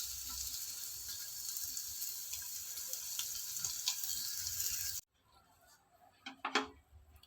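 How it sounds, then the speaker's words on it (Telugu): Paneer pieces fry in a little oil in a pan, giving a steady, close hiss of sizzling that cuts off abruptly, followed by faint clinks and soft handling noises. "ఇట్లా రెండో సైడ్ కూడా వేయించుకుందామండి"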